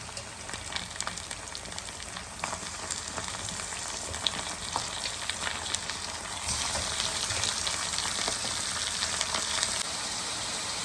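Marinated chicken with broken dried red chillies sizzles steadily in a pan for chicken uppu kari, a continuous bright frying hiss that grows fuller and louder partway through, with no voices.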